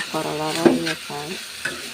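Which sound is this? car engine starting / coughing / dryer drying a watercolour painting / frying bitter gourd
frying bitter gourd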